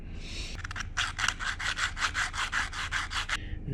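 Wood being scuffed and roughened for a model railroad layout: a few quick strokes, then a steady run of about a dozen rhythmic rasping passes, close and fairly loud, with no talking.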